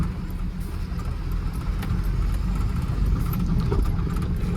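A loaded truck labouring along a rough tar road gives off a steady, close, low engine drone and road rumble, continuous and fairly loud throughout, with no voices.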